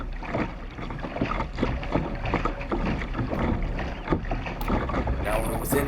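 A rescue boat moving on open water during a sailing race: constant rumbling wash and wind buffeting the microphone, loud and steady throughout, no clear speech.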